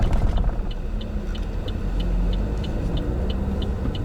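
A manual Chevrolet Cruze 1.6 pulls away with a steady low engine rumble and road noise heard from inside the cabin, with faint regular ticking over the drone.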